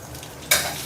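Ginger, shallots and garlic drop into hot oil in a wok for prawn noodles: a quiet pan suddenly bursts into a loud, close sizzle halfway through.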